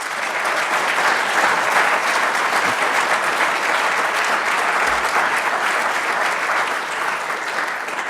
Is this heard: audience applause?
yes